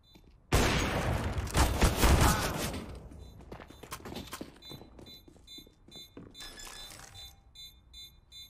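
Counter-Strike: Global Offensive gunfire erupts in a sudden loud burst of rapid shots, then fades into scattered clicks, thuds and mechanical in-game sounds with short repeating electronic tones.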